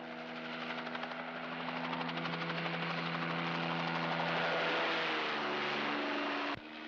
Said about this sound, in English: It's a copter. We're saved.